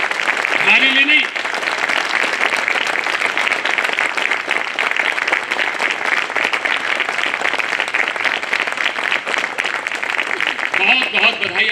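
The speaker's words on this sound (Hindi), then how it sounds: "जिन जिन ने ताली नहीं बजाई अपने लिए बजाइए, हमारे लिए नहीं।" Steady, loud applause from an audience of newly enrolled advocates at a Bar Council of Delhi enrolment meeting, dense clapping filling the hall without pause, with a voice speaking briefly at the start and end.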